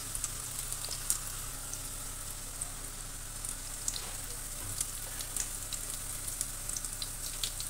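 Thin pieces of food frying in hot oil, a soft, continuous sizzle with scattered small pops and crackles, fairly quiet and close, with no voices.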